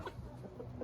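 Ranch chickens clucking softly and continuously up close, a short burst of low, quiet murmuring clucks.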